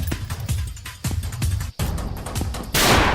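Gunfire in the Roblox video game, a rapid burst of close, loud shots with short pauses between volleys, ending in a louder, denser blast.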